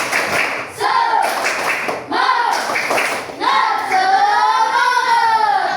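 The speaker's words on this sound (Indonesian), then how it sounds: "Tepuk semangat dulu kita. Biar semangat. Tepuk semangat." Voices chant together while a group claps in a steady rhythm, sharp clap bursts alternating with sung phrases, close and lively.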